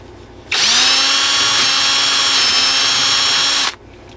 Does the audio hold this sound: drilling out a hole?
yes